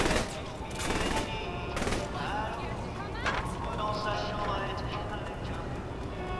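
Sniper gunfire in the action game Saints Row: The Third Remastered, a few sharp cracks over a dense, constant layer of game noise and music, with voices talking throughout.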